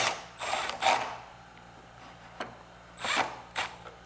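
Pocket screws driven into a wooden face frame with a drill, heard as several short whirring bursts of the driver spaced by pauses, up close.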